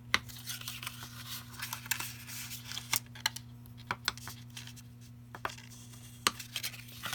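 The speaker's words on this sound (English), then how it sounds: "this just takes a couple moments here to fold and burnish" Paper Valentine treat holders are folded and burnished by hand at close range, giving soft crinkling, creasing and rubbing with scattered sharp crisp clicks over a low steady hum, and no talking.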